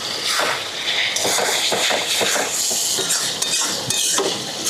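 Spice masala with chopped tomato sautéing in a pan for a raw jackfruit dish: a steady, close sizzle with repeated scraping and stirring of a utensil against the pan, and no talking.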